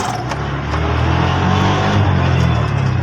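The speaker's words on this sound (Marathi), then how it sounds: "आपण जसं सोडतो हाताने तसं हळूहळू सोडायचं" An auto rickshaw engine, whose clutch wire has broken, runs loud and close as the clutch is slowly let out. Its drone swells slightly and holds steady.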